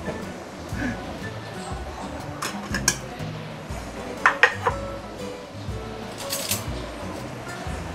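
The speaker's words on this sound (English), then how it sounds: "Just use a spoon to scoop out like this." A spoon scrapes and clinks against a container while scooping out Assam tamarind puree for a tiger grouper fish head curry, with several sharp metallic taps over a busy kitchen background and faint talk.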